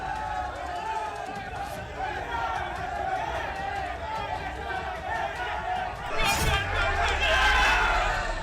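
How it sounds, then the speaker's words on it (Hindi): A crowd of people packed into a room in Maharashtra, with dense overlapping chatter and shouting that holds steady and then swells louder in the last couple of seconds, as police try to calm them. "पुलिस भीड़ को शांत करवाने की कोशिश कर रही थी, लेकिन भीड़ और ज्यादा हंगामा करने लगी।"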